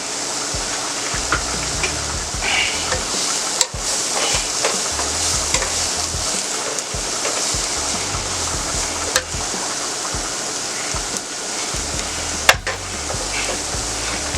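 Ground beef and Italian sausage frying in a pan give a steady, loud sizzle throughout, with a few sharp clicks and scrapes from stirring now and then and no talking.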